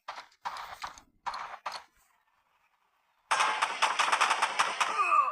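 Gunfire in the war shooter game Frontline Heroes, fighting German soldiers: a dense, loud burst of rapid automatic shots fills the last two seconds, after a few short bursts of broken sound and a quiet gap.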